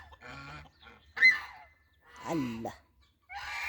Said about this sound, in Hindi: ये बदख दे बच्चे हैं, मुर्गी दे बच्चे